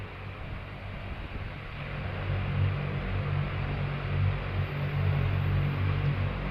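Propeller engines of a C-133 cargo aircraft taxiing on inboard engines with the outboards shut down, a steady, loud droning hum with low tonal throbbing that holds continuously without pause.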